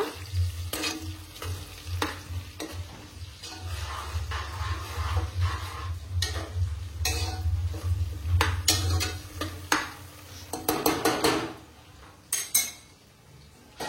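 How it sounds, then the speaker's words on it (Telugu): Ginger garlic paste being stirred into chicken pulao in a pan, with a spoon scraping and clinking against the metal over a continuous low sizzle of frying, close and without speech. "వేసుకొని కలుపుకుందాం"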